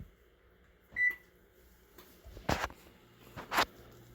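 An oven being set to preheat to 350 degrees gives a single short electronic beep, followed by a couple of soft button presses and clicks in a quiet kitchen.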